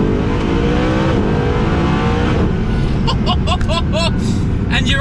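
A Mercedes SLS AMG Black Series engine screams at high revs and holds near its 8000 RPM limit, then brief sharp bursts of sound punctuate the roar as a voice speaks over it.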